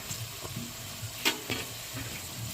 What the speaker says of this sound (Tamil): இஞ்சி வெள்ளைப்பூடு பச்சை பட்டாணி எண்ணெயிலே கொஞ்சம் வதங்கி வந்துருச்சு